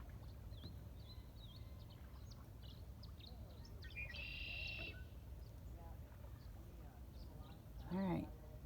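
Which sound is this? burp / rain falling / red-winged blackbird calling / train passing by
red-winged blackbird calling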